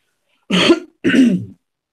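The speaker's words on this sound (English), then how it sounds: "I got to clear my throat too much today." Two firm throat clears, close to the microphone, separated by a short pause, with silence around them.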